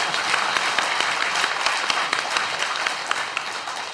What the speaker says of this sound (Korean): 동의하시면 박수를 크게.